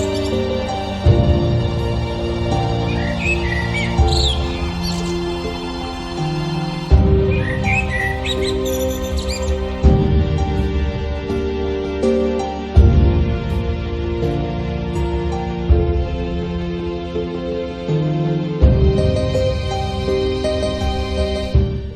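A common blackbird sings a continuous series of rich, fluting phrases with varied whistled notes and short breaks between phrases, loud and close with no talking.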